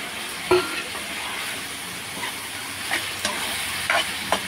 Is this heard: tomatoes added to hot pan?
yes